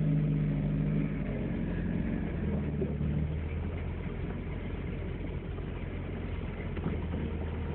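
A Mazda Eunos car engine idles steadily while standing in flood water, a low continuous rumble heard close with a faint burble and no clear revving.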